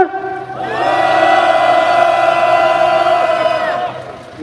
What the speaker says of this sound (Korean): 다시 한번 규탄의 함성 3초